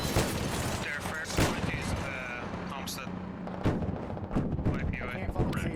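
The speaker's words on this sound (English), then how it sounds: "It's shooting at us!" Video game gunfire from an ASLAV armored vehicle firing at the players: dense, loud bursts of shots and booms throughout, with excited voices talking over them.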